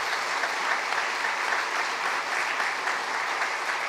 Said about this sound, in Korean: 우리 서로 격려 박수 한번 해 드리십시다.